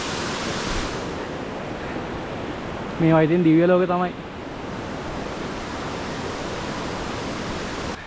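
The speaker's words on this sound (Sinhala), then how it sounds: "පේනවද සීතගංගුල ගලාගෙන යන විදිය? මේ දවස්වල වතුර ටිකක් සැරයි." Strong flow of the Seetha Gangula stream on the off-season Sri Pada climb via the Nallathanni–Hatton route, a steady, close rushing wash of water throughout, with someone speaking briefly over it midway.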